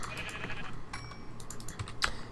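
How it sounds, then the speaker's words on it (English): A sheep in the video game Minecraft bleats as it is killed. A short bleat comes near the end over steady background noise and faint clicking like keyboard typing. "So let's kill this sheep."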